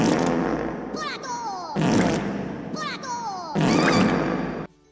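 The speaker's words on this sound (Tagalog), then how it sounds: "Sa paggawa ng saludo ng mga minions gamit ang fart gun" Minions firing fart guns in a salute in the animated film Despicable Me 2: three loud, wet blasts in a row, each ending in squealing, sliding tones, with cartoon voices squeaking and chattering among them.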